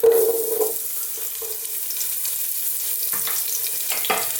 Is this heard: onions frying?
yes